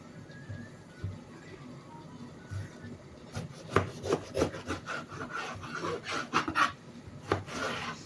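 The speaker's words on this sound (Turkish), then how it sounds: "Patlıcanlarımı dörde bölüyorum." Repeated rough rasping strokes of a knife cutting eggplant into quarters on a board, quiet at first then quicker and louder.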